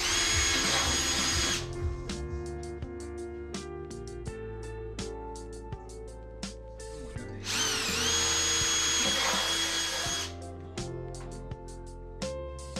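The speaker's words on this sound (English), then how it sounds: "One must adapt them, drill a pair of holes" A power drill whirs in repeated bursts, spinning up loud and close, with short pauses and lower machine hum between runs, drilling holes to fit fender flares on a Suzuki Jimny.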